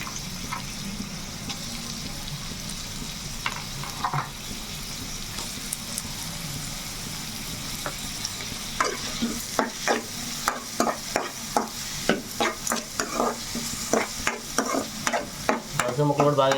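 Cucumber pieces and onions fried in a pan, a steady hiss of sizzling oil that turns busier midway as a spatula stirs and scrapes in quick, close, repeated strokes.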